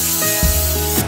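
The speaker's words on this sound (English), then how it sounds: "I'm gonna go ahead and spray the pan with some coconut oil" A short, steady spray of coconut oil hisses out from an aerosol can onto a pan, lasting about a second with a slight surge midway.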